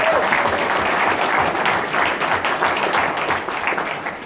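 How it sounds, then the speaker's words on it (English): A large audience at a South African charity donation event claps loudly and steadily for the charity representatives, a dense, sustained roar of hands throughout. "Give them a clap."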